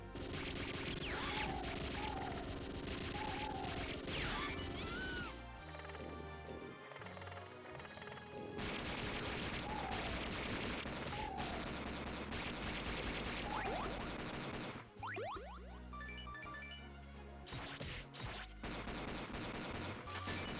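Heavy machine gun fire in the arcade game Metal Slug 6, with rapid dense bursts, crashes and explosions mixed with game music and effects throughout, loud and continuous.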